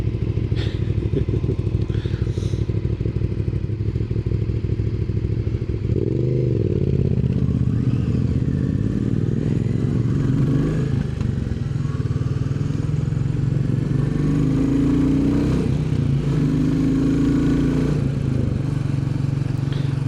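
Royal Enfield Bullet 350 motorcycle riding along a road after floods, its steady thumping single-cylinder engine loud and continuous throughout with slight rises in revs and wind rumble.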